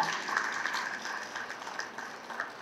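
Audience applause for a monk at a Buddhist talk: a steady wash of clapping from a crowd that stays even for the whole stretch without fading.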